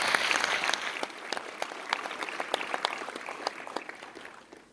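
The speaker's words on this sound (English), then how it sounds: "A round of applause, ladies and gentlemen, for Mr. Jayaweera." Steady applause from an audience at a school music competition's final results ceremony, dense overlapping clapping that holds at a fairly even level throughout and fades a little toward the end.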